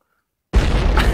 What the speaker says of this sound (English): you threw me a bomb